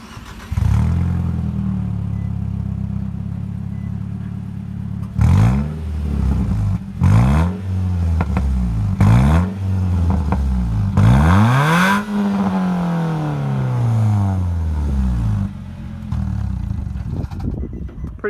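A car engine revs repeatedly through a newly fitted exhaust tip, idling between a series of sharp, rising throttle blips that build to one long, loud rev, captured close to the tailpipe with no talking.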